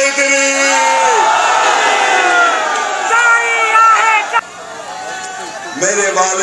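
Crowd at a Pakistan Peoples Party political rally chanting slogans in unison, loud and close, with dense massed voices swelling in waves and a sharp drop partway through before the chanting resumes.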